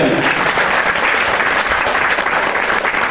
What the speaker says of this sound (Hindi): तो एक बार अपने लिए जरूर तालियां बजाएं।